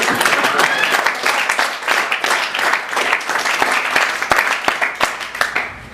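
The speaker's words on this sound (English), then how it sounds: "You can clap now." Audience members at an author's book reading give a burst of lively, close applause made of many distinct claps, with a few voices mixed in among them.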